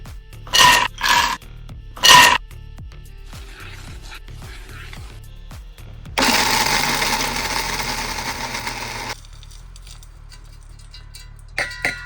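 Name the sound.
mixer grinder grinding dry fruits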